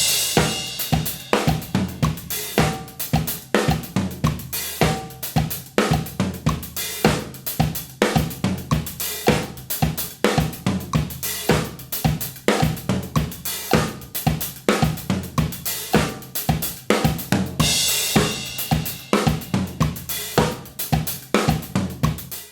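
A drum kit plays a steady, syncopated disco groove of kick, snare, floor tom and busy hi-hats, with accented hi-hat hits in a dense, even rhythm that runs unbroken without any voices.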